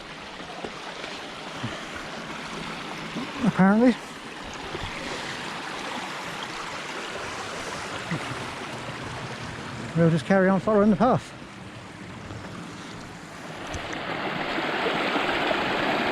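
A river's rushing water flows steadily throughout, broad and continuous, while a person speaks briefly twice over it and the flow grows louder near the end. Peak District woodland.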